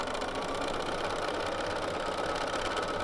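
A sewing machine stitching free-motion quilting, giving a steady, even mechanical whir that runs without a break at moderate loudness.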